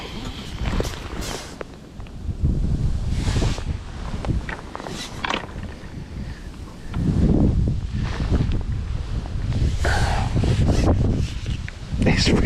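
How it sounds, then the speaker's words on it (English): Steady wind gusting across the bank of the River Thames during a December club fishing match, a broad rushing buffet that rises and falls, with low rumbling blasts at the mic and surges near the middle and end. "It's really windy today."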